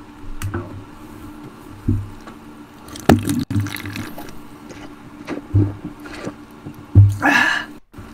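Water in Minecraft: scattered sloshing, splashing and dripping sounds at irregular intervals, moderately close, with a low ambient hum and no talk.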